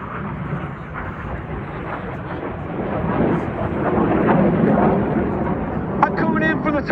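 Red Arrows jets flying the Synchro Rolling Heart with red smoke at an airshow, a broad, loud roar of jet engines building and sustained over crowd noise, with a brief sharp sound near the end.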